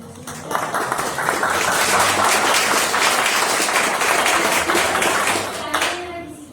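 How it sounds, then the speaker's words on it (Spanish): Indoor audience applauding guests at a ceremony marking the anniversary of the Parícutin eruption, a loud, full round of clapping that swells quickly, holds steady for several seconds and then tapers off. "Les pido un aplauso para nuestros invitados."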